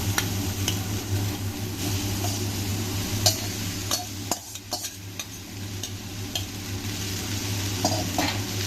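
Hakka noodles being stir-fried in a pan, a continuous close sizzle with frequent scraping and tapping of a spatula against the metal, plus a low steady hum from the burner or hood underneath.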